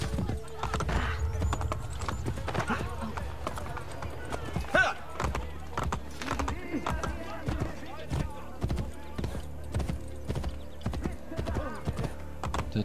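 Hooves clop rapidly and rhythmically in a steady galloping beat in Assassin's Creed: Brotherhood, with a horse's whinny and occasional German speech mixed in.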